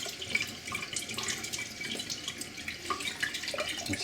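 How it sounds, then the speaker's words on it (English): Cold water runs from a faucet to rinse sprouts in a jar, a soft, steady trickle and splash with light irregular drips, faint and close. "I'm going to rinse some cold water."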